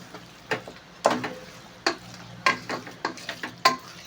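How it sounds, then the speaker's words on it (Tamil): A spoon scrapes and stirs chicken biryani masala in a pot, making about eight distinct knocking scrapes at an uneven rhythm over a soft sizzle, close and clear, with no talking. "நல்லா கிண்டி விட்டுப்போம்"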